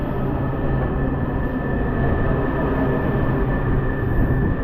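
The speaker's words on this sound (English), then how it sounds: "All right, here she is, my final train of the day." A steady, loud rumble of a Silver Line Metrorail train arriving at a station, with a faint high whine, continuous and close, no voices.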